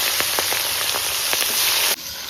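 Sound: chopped onions sizzling in hot oil

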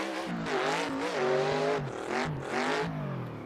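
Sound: RTR FD Mustang drift car driving, tires squealing

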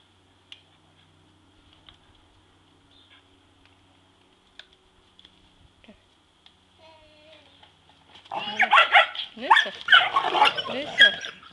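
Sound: puppy barking

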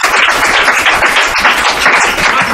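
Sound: audience applause

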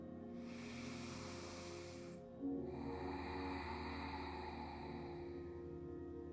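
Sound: deep breath in through the nose during yoga

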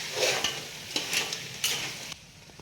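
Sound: onion, garlic and coconut paste added to sizzling crab curry

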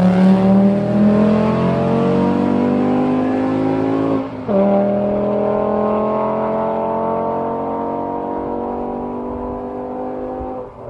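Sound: Volkswagen 2.5 liter engine with intake and exhaust revving

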